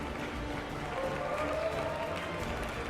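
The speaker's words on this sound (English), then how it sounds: "Round of applause for both finalists" A crowd applauds steadily for the two Age of Empires II finalists at a live gaming festival final, a continuous wash of clapping heard at some distance.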